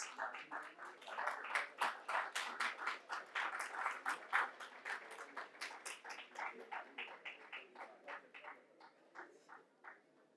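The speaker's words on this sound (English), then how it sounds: "A big round of applause, please." Audience applause at a celebration of 30 years of the telecom industry, a steady patter of many hands clapping that starts fairly quiet, swells, then thins into scattered claps toward the end, with no talking.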